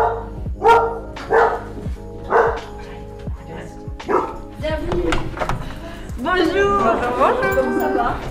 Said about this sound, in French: ça, c'est un beau chien.